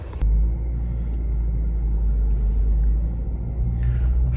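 A Renault Laguna Coupe driving, heard as a deep, steady engine and road rumble from inside the car, loud and constant after a brief cut-in at the start.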